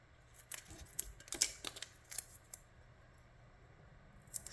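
Small children's scissors snip through material, making a series of quick, crisp clicks and snips in irregular bursts, close and fairly quiet, with no talk.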